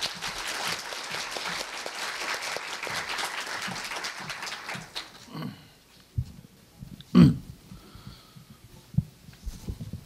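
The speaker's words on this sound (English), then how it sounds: "please welcome Professor Woo Kyun Lee with a big round of applause." An audience at Korea University's ARC Conference 2019 opening ceremony gives a round of applause, dense clapping for about five seconds that dies away, followed by quiet room noise, a low thump and a few faint sounds.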